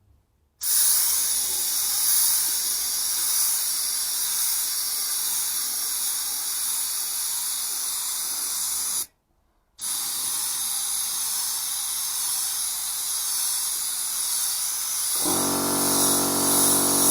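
Airbrush spraying silver base paint onto a car bonnet, giving a steady close hiss that runs almost continuously, with one brief pause partway through.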